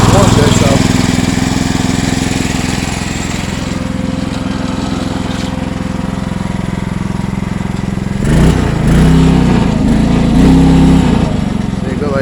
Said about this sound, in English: See, she fires up now, she's warmed good